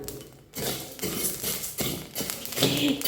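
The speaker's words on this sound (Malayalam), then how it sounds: "ശബ്ദം കേൾക്കാൻ പറ്റുന്നുണ്ടോ കിരി കിരി കിരി കിരി കിരാന്ന്" Roasting rice mixture crackles and scrapes in a pan as it is stirred, with a short quiet start and then a dense run of close, brittle ticks and scrapes with no talk.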